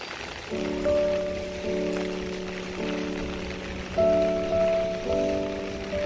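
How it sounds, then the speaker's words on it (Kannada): Rain falls on a house terrace during a sunshower, a steady soft patter under repeated droning tonal sounds that rise and fall in roughly one-second blocks. "ಮಳೆ ಬಂದುಬಿಡ್ತು"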